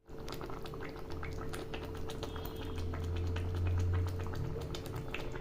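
Kanla fish curry bubbles away in a pan on the stove, a steady, close, soft simmer of crowded little pops and ticks over a low rumble that swells briefly before easing back.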